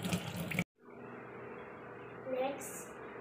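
Tap water streams steadily into a sink while lemongrass is rinsed, a close, even rush that swells slightly near the end, following a brief stretch of speech at the start.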